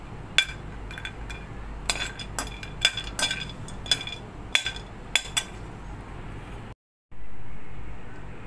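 Long pepper sticks dry-roasting in a pan, heard as irregular sharp ticks and clinks of the sticks and a utensil against the metal over a low steady hum, with a brief cutout near the end.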